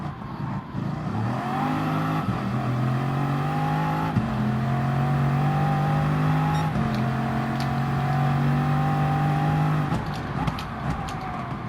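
A car's engine revs hard and climbs through the gears, steady harmonic drone rising in pitch with brief gear-change dips, loud and close throughout.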